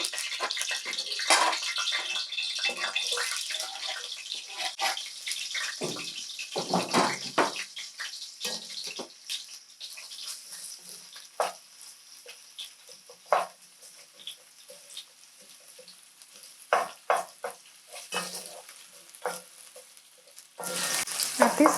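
Onions frying in hot oil for egg curry crackle and hiss close up, with the sizzle rising and fading unevenly as they are stirred, punctuated by occasional scrapes and louder spatters.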